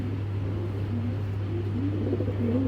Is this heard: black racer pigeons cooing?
yes